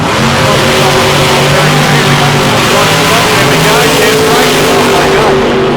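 A race car at a South Coast Nationals qualifying meet, loud and close, its engine droning steadily under power with its pitch climbing and shifting as it accelerates and the rear end slides, running continuously throughout.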